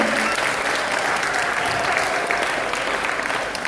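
A hall full of people breaks into sustained, even applause, a thick, close roar of clapping hands with no pause throughout.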